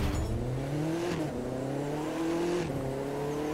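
A car engine in the racing game The Crew 2 drones and revs steadily as it drives, the pitch climbing through gears with two brief shift dips, smooth and close with no talk.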